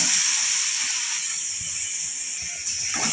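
Small chopped shallots hit hot oil in a pan while cooking chicken curry, giving a steady bright hiss that holds loud and even throughout, with faint soft clatter underneath.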